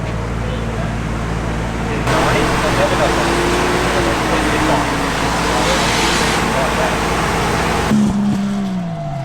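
A Nissan S15 with a swapped 1JZ engine, misfiring and running hot after drift practice, idles to cool down: a steady, droning engine hum with a shift in pitch near the end, fairly close.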